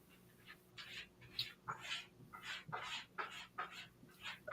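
A cat scratching and digging in its litter box, a series of faint, quick scraping bursts in an irregular rhythm, heard from a short distance in a quiet room.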